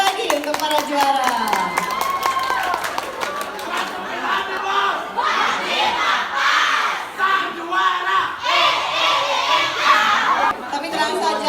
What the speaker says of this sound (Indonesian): tepuk tangan sekali lagi untuk para juara